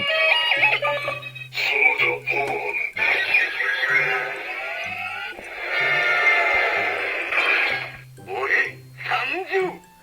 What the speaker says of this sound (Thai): อันนี้มันจะมีเสียงปิดท้ายหลังจากแปลงร่างด้วยนะฮะ